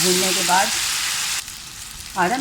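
Garlic-ginger paste frying with onions in a pan for a vegetable curry, a steady broadband sizzle that drops briefly and returns, with a brief stirring clink and faint kitchen sounds.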